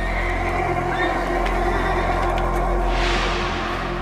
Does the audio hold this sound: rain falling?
no